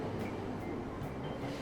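Train rumble from the video game Persona 5 Royal, a steady low broadband rolling noise of a moving carriage, continuous and moderately loud with no talk over it.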